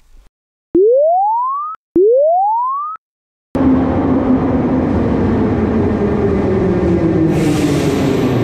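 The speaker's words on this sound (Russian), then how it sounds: "Это поезд метро" Two rising whooping tones, then a loud continuous rumble of a metro train running along the rails with a faint whine.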